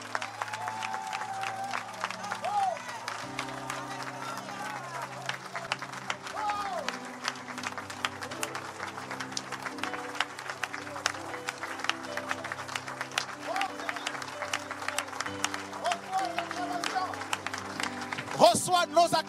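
Church congregation applauding and acclaiming during worship, a steady wash of clapping with voices and sustained musical tones underneath throughout, swelling slightly near the end.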